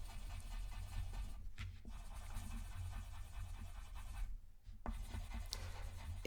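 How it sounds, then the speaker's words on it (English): Pencil or pen scratching across paper while sketching a cluster of diamonds, a close, soft continuous scribble of short strokes with two brief pauses, no voices. "I'm drawing a kind of, I don't know, a cluster of diamonds."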